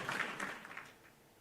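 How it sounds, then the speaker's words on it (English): Applause from a studio audience at a live sports talk show, a dense wash of clapping that starts strong and gradually fades over a second and a half, with no voices on top. "keep the claps coming"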